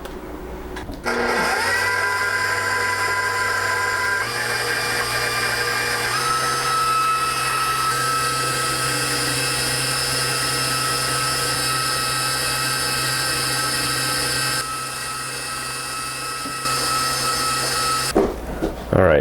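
A stand mixer runs steadily, whirring and churning milk and eggs for homemade vanilla or mint chocolate chip ice cream, a continuous motor drone with a slight shift in pitch partway through, close and fairly loud with no talking.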